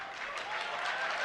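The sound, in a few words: applause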